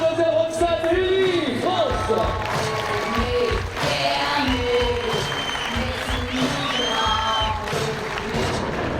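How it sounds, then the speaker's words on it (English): A crowd at the 2013 European Climbing Championship paraclimbing finals in Chamonix gives sustained applause and cheering for a French climber, steady and loud throughout, with an announcer's voice carrying over the clapping. "Applaudissements pour Mademoiselle Roxane Lully, France."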